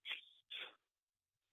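Two short, sharp sneezes in quick succession, close and fairly loud, followed by silence.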